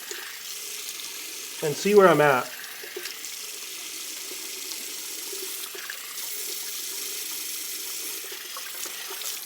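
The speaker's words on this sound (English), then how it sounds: "I may just do a quick rinse off again with cold water, cold splash" Tap water runs steadily into a sink for a cold rinse during shaving, a soft continuous hiss under the whole stretch, interrupted near the start by a brief spoken phrase.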